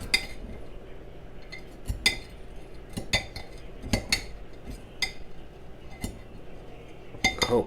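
Knife and server clinking against a plate and pan while slicing into a slow cooker cheesecake with a burnt graham cracker crust, a series of sharp metallic taps and scrapes spread over several seconds, close and alone.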